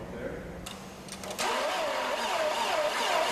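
Passenger car engine cranking over in extreme cold on 10W30 oil, a steady rhythmic starter churn rising and holding loud and close, with a wobbling whine riding on it after a brief quieter lead-in.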